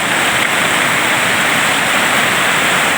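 Waterfall on a rainy trek toward the Valley of Flowers in Uttarakhand, a steady, loud, broadband roar of falling water that stays constant throughout, close by and with no voices.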